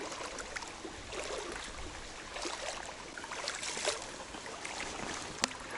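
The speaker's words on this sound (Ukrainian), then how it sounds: "От я ходжу по воді, туди." Rubber boots wade through shallow, cold water outdoors, giving soft splashing and swishing with trickling, fairly faint and continuous, with an occasional sharper slosh.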